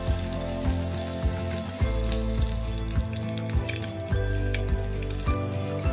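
Stuffed eggs coated in batter fry in hot oil as egg bajji. A continuous bubbling sizzle carries a regular low pulsing underneath, with no talking.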